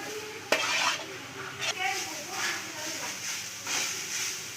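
Grated coconut roasts in a pan with a soft hiss, punctuated by sharp scrapes and taps of a spatula against the metal as it is stirred, close by; a voice talks over it.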